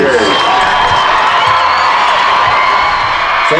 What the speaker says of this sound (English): Applause for our honorary captains and student leaders.